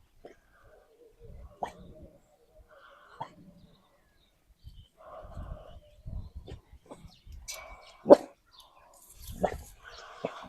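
A pet dog meeting its littermates behind a door gives scattered short barks, yips and snorts at close range, with soft human voices and shuffling between the bursts.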